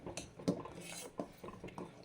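A spoon stirring ginnu milk pudding in a pan, with a few soft scraping clinks against the metal at an uneven pace, quiet and close.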